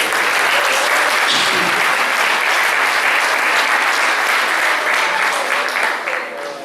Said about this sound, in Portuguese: você tem que dar salva de palmas para essa gente toda